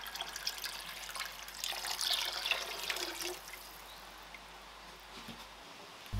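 Whey is scooped off curd and replaced with warm water during cheesemaking, a soft splashing trickle of liquid that swells midway then fades to near quiet, faint and close, with no talk.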